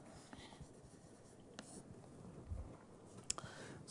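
Faint scratchy strokes of writing on a board during a university lecture on dynamical systems sound in short bursts over a quiet room hum, with a few light taps.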